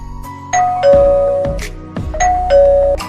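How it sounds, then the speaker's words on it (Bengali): A two-tone ding-dong doorbell rings twice in a row, each chime clear and fairly close, with no voices. "কলিং বেল বাজতেই জিন দরজা খুলে দেয়"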